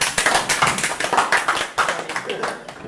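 An audience claps for a young woman at a French live event, with a close, lively stream of individual hand claps at a quick uneven rhythm and a few voices mixed in.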